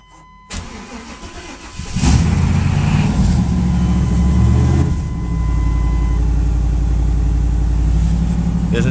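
A 1995 Chevrolet Tahoe cranks briefly, catches and settles into a loud, steady cold idle, heard close with a slight dip and recovery midway; no talk over it.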